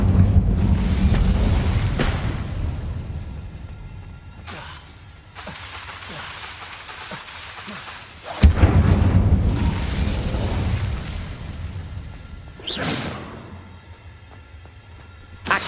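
Incendio fire spells cast repeatedly in Hogwarts Legacy, a string of loud whooshing bursts and booming fiery blasts with crackling tails, the strongest near the middle and end, separated by quieter magical rumble.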